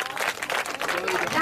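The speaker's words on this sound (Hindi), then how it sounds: "जोरदार ताली बजाइए।" Audience clapping at an event honouring a Kargil War hero, a short loud burst of applause that may overlap with voices.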